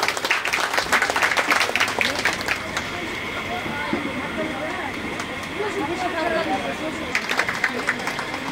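At an inauguration ceremony for a solid waste project at a village council, an audience claps for guests, with bursts of applause at the start and end around a stretch of talk and murmuring from the crowd.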